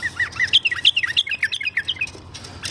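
Iraqi bulbuls kept as tame birds chirp in a quick run of bright, clear notes, loud and close, about a dozen calls in steady succession with no talking.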